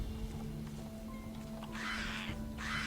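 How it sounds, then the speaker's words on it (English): A vulture-like buzzard creature in the video game Risen lets out two harsh, raspy caws in quick succession late on, over a steady hum of game ambience. "you get one of these weird vulture, buzzard bird things that everybody hates"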